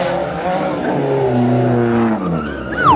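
T-Racers toy race cars launching at the start of a race, a loud burst of engine-like whirring and squealing with sliding pitch sweeps, close and continuous.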